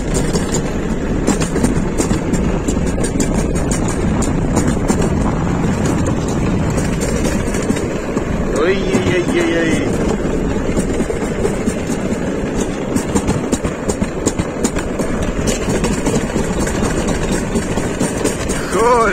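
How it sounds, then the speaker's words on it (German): A summer toboggan run ride, with a steady rumbling roll of the sled along the track and wind noise throughout, loud and continuous close to the rider. "Eine Sommerrodelbahn."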